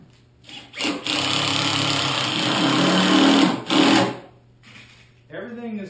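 A power driver runs 1 5/8-inch drywall screws into half-inch OSB, giving two long, steady, loud whirring drives separated by a short pause, with a brief voice at the end.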